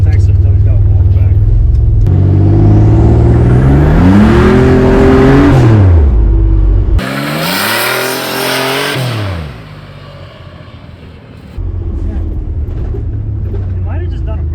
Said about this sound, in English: It might have just done a burnout.